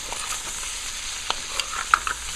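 Spiced meats seasoned with black pepper fry in a pot for Guyanese pepperpot, a constant near sizzle with scattered pops and a few sharp metallic clinks of stirring, no voices.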